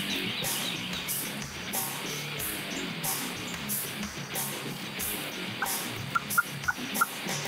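Several wild turkey hens yelp and cluck in a series of calls, with a few sharper clucks near the end over quiet outdoor background.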